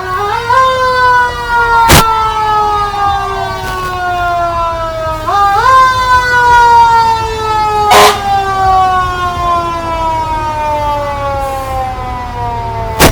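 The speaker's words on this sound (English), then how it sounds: "They always have to end the parade with their sirens." Harrisburg Fire Department fire truck closing a July 4th parade, its wailing siren sweeping up and down repeatedly with sharp horn blasts cutting in, loud and close throughout, no talk.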